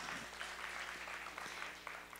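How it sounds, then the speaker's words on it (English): Quiet, distant audience clapping during a church sermon, a steady patter of applause with faint voices under it for a couple of seconds. "Y'all need to clap for that"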